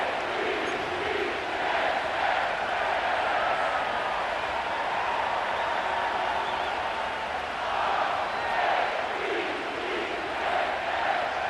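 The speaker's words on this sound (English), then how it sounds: "The crowd is definitely ready." A stadium crowd roars steadily at M&T Bank Stadium in Baltimore's Inner Harbor within Madden NFL 25 pregame coverage, a dense continuous wash of voices swelling and easing slightly but never dropping out.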